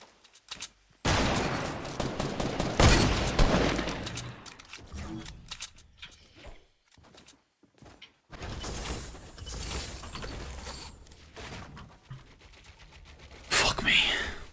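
Gunfire in Fortnite Battle Royale, bursts of shots and rattling fire coming in loud clusters separated by quiet gaps, with a player talking at times.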